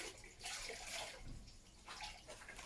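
A damp grout sponge being wrung out during tile backsplash work, with a faint, close splash and trickle of water running out in two short surges.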